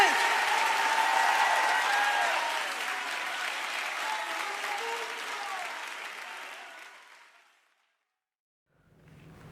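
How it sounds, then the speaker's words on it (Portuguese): Church congregation applauding during a worship service, a dense wash of clapping that holds steady for several seconds, then fades out into silence before a faint voice begins. "Aplauda o Senhor aí, gente!"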